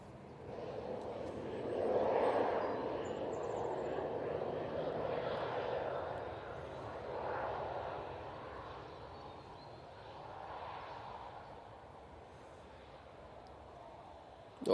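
A Ryanair airliner arriving from Copenhagen comes in to land at Manchester Airport, its engine roar steady and moderately distant, swelling and easing in broad waves on a hot, hazy day.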